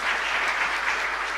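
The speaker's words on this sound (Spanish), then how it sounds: "Un fuerte aplauso, por favor, para esa familia." Steady, dense applause for a family fills a chapel, a continuous wash of many hands clapping at moderate volume with no pauses.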